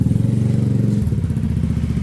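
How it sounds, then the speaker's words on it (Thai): Engine of a 2.0 Bi-turbo car running after injector repair and servicing, a steady close, loud low rumble with even pulsing that holds unchanged throughout, no voices. "ให้ฟังเสียงเครื่องยนต์นะครับ"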